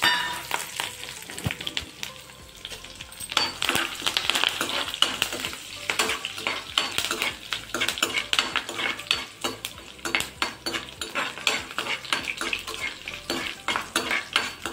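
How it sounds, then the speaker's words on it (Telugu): Mustard seeds and spices tempering in hot oil for a cabbage and toor dal curry crackle and sizzle steadily, with a ladle scraping and stirring the pan close by. "రెండింటికి కలిపి తాలింపు వేసుకుందాము."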